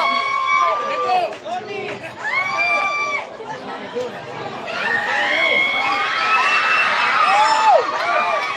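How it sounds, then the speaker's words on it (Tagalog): Crowd cheering and shouting at a campaign rally, a loud, continuous roar of many voices with whoops and high shouts rising toward the end. "Grabe yung hiyawan ng mga tao."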